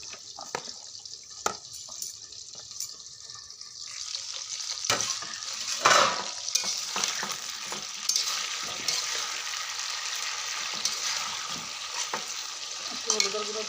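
Potatoes frying with spiced chicken curry in a pan, a steady close sizzle with intermittent stirring scrapes and occasional clinks throughout, with no talking.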